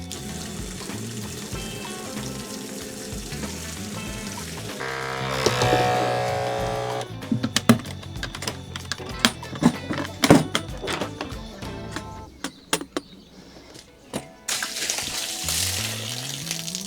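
Water running and splashing while a weed killer sprayer tank is rinsed out, a steady wash broken by hollow knocks and clunks of the container being handled, close by with no talk.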